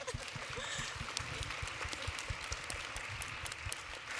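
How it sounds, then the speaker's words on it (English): A large audience applauds at a parliamentary centenary event marking 100 years of women MPs, a dense, steady patter of clapping that fills the hall throughout. "a huge round of applause"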